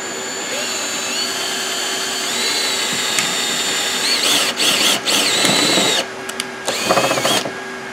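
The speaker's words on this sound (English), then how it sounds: "It's one of those self-tapping, so he's just using it to drill a hole through the aluminum" A power drill drives a self-tapping screw through the aluminum roof of a 2014 Sabre 5th wheel RV, a steady whining hum with pitch shifts and short bursts, outdoors and fairly loud.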